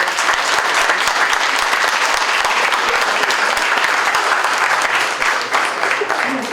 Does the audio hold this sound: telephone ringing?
no